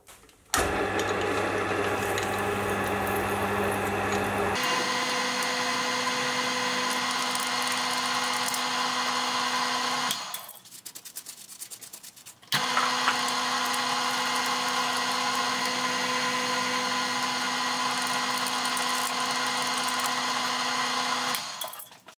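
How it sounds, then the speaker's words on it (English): Machine tool reaming a hole to 10 mm, a loud steady whine and hum that pitches down, drops out briefly around ten seconds, then resumes at an even drone. "I'll ream it to its final dimension, which in this case is about 10mm"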